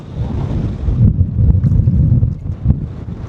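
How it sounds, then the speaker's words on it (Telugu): Strong wind at Lake Assal in Djibouti buffeting the microphone in a loud, continuous low rumble, with gusts rising and easing and faint splashing water behind it. "చాలా గాలి వస్తుంది ఇక్కడ"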